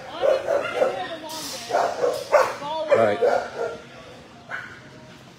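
Four kennel dogs bark and yip repeatedly at close range in a busy animal-shelter room, loud overlapping barks over a person's voice, easing off toward the end.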